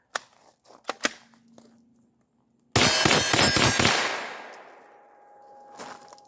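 Quick bursts of shots ring out from a Beretta CX4 9mm carbine, loud and close, after a few light clicks. The rapid firing ends and a long metallic ringing decays into quiet, followed by a faint clink.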